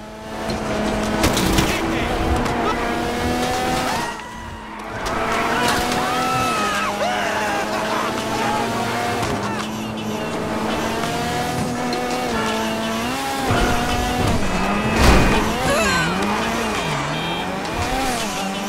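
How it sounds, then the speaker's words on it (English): Modified car in GTA V driven hard, engine roaring with rising and falling revs, tire squeals and skids, loud and continuous, with a voice talking over it at times. "I hate driving these modified cars."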